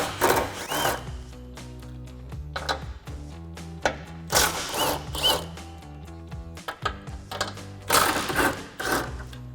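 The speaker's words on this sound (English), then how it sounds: "So we're going to use our 13 millimeter socket" A ratchet with a 13 mm socket spinning off shock tower nuts on a 2005-2014 Ford Mustang, bursts of rapid clicking repeated several times, close and fairly loud.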